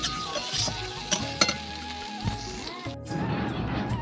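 Hot oil sizzles in a pan before fritters go in, a crackling fry with clinks and clatter of utensils near the start and a brief quiet gap before the sizzle continues.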